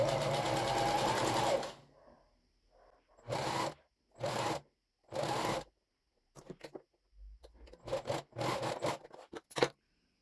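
A domestic sewing machine stitches a swimmer-style bra in several short bursts: one long run, then three even bursts and a cluster of quick ones, close and clear with quiet gaps between.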